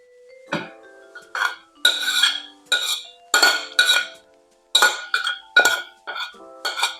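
Chopped vegetables dropped into a salad bowl of okonomiyaki batter, heard as a string of bright clinks and knocks against the bowl, up close and fairly loud, about a dozen irregular hits with no talking.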